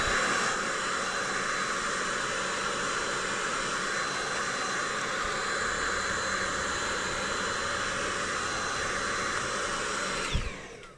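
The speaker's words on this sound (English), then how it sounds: "Grabbing the brush / vacuum cleaner" A vacuum cleaner with a brush attachment runs steadily during a service of a Panasonic NV7000EM video recorder, a loud continuous whining roar with airy hiss that holds for about ten seconds and then cuts off with a brief thump.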